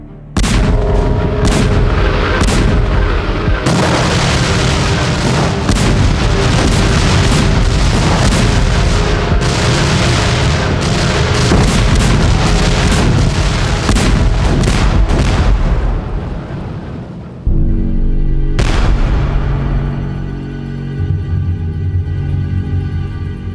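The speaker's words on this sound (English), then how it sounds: "Over 4 months, Prussian artillery bombarded Paris." Prussian artillery bombarding Paris during the 1870–71 siege: a dense, loud barrage of repeated cannon booms and explosions that runs almost without pause, drops out briefly, then resumes with another heavy blast.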